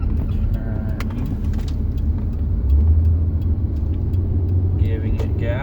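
A 5.5 generation Nissan Maxima with an odd engine noise rumbles steadily from inside the car while it turns, a low droning hum with a faint whine rising briefly near the end.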